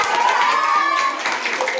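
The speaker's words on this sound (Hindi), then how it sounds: "लड़के ताली बजाएंगे। ताली बजाओ।" Boys in a classroom clapping their hands during a children's word game, a quick run of clapping mixed with young voices and chatter.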